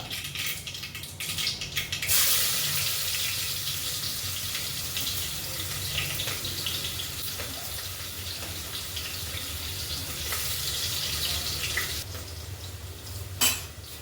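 Chopped onion sizzles and hisses in hot oil already frying asafoetida, cumin and mustard seeds for khichdi. The sizzle is a steady close wash, with a brief clatter of a utensil and no talk.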